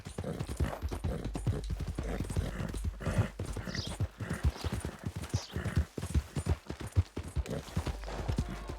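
Horse hooves clip-clop at a steady trotting rhythm in the Red Dead Redemption 2 video game, close and continuous through the clip, with other faint game sounds beneath.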